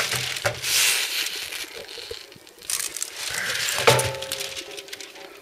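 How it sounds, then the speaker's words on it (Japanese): Aluminum foil being pulled off and replaced on a grill, with crinkling, crumpling bursts and a couple of light metallic clinks, close and uneven. "アルミ箔を交換したいと思います。"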